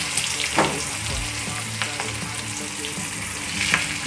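Chillies fry in oil in a kadhai over a low gas flame, giving a steady close sizzle with scattered pops and spoon-stirring scrapes, and no voices.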